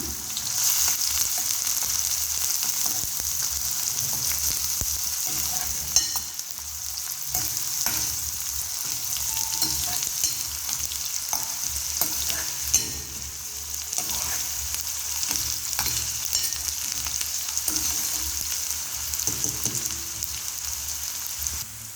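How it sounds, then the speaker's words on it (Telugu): Chopped onions and curry leaves fry in hot oil for brinjal curry, giving a steady close crackling sizzle like rain on a surface, with occasional soft stirring scrapes and no voices. "మనం ఇప్పుడు కట్ చేసిన ఉల్లిపాయలు, కరివేపాకు కూడా ఈ ఆయిల్లోకి వేసుకుందాం. వీటిని ఒకసారి అయితే కలుపుకుందాం."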